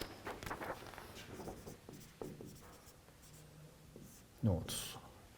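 Pen or marker writing notes during a signals and systems lecture, scratchy strokes in short bursts close by, with a louder tap near the end and faint room noise between.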